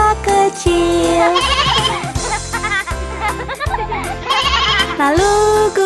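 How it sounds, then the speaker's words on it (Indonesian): Bleating of a little lamb sung in a children's song rises over a bouncy musical backing with a steady beat, the wavering calls repeating several times up front. "ada domba kecil"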